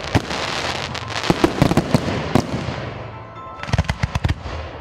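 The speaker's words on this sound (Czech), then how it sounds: "rozzářil oblohu nad parkem opět krásný ohňostroj" Fireworks over a park at a village reunion crackle and bang in rapid bursts, a dense volley of sharp pops followed by a short pause and another cluster of loud explosions.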